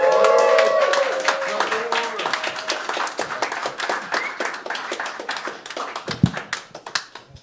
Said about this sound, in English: with a big round of applause, please, our resident mustache comedian, Mr. Trevor.